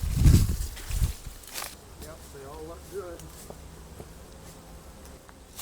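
Honey bees buzz around about 25 beehives in a treatment-free apiary, a faint insect drone under a few footsteps and rustles near the start, with wavering buzzing tones drifting past in the middle.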